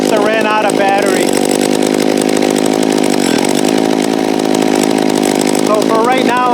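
McCulloch Timber Bear chainsaw engine running steadily near the microphone just after its first start-up, a loud continuous buzzing drone with slight pitch wavers throughout.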